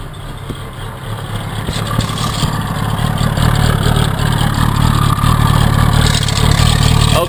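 A Mazda B2200 pickup truck with carburettor trouble runs at full throttle, its engine a loud, sustained roar that builds slightly while the accelerator stays held down.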